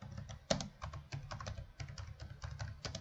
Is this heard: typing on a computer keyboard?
yes